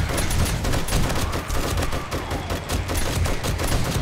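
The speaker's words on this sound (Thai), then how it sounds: "คือต้องยิงหมดแม็กเนี่ยค่ะ" A magazine is emptied at zombies in the 7 Days to Die video game in rapid, continuous automatic gunfire: loud, close, dense shots rattling without a pause, with no talking.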